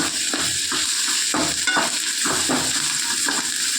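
Ingredients for green tomato chutney sizzle while being sautéed and stirred in a pan, a steady close frying hiss with rhythmic scraping strokes of a spoon.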